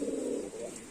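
Pigeons coo in a steady low murmur, fairly soft and continuous, at a loft among a flock of racing birds, with no talk.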